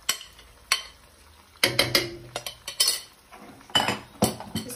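Marinated chicken, half a kilo, being stirred in a stovetop pot for pulao: repeated clinks and scrapes of a utensil against metal come in irregular bursts with brief gaps, close and moderately loud, with no voices.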